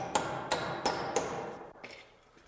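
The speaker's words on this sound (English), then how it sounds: "I'm going to temporarily tack this in place" Hammer tacking a cut wooden stair carriage against a hanger board, four sharp evenly spaced strikes close by, followed by quieter knocks and rustling as the blows stop.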